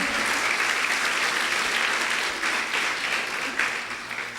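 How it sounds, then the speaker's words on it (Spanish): A church congregation at a meeting claps loudly and steadily, a dense, sustained round of applause that fills the room from start to finish. "Dele un aplauso fuerte al Señor"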